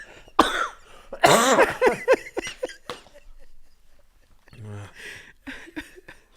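Several harsh coughs burst out close up, mixed with throat-clearing and a few murmured sounds, irregular and loud.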